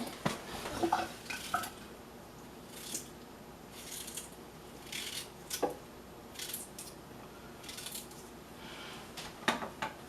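Fresh ginger root cut into small pieces with a knife in a home kitchen, scattered light chopping taps and scraping clicks against a board, close and fairly quiet with pauses between cuts.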